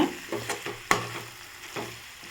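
Okra stir-fried with salt in a pan for a lunch-box poriyal sizzles softly, with several distinct spatula scrapes and one sharp knock close by.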